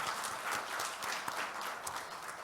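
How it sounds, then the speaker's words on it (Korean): A church congregation claps during a Sunday morning worship service, a brief, moderately loud, fairly steady patter of many hands heard alone. "한번 박수로."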